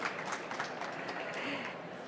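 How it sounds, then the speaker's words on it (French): Audience applause at a tech trade show stand, a dense, steady wash of clapping from a crowd lasting a couple of seconds. "On peut les applaudir, s'il vous plaît"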